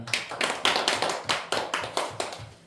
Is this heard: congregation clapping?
yes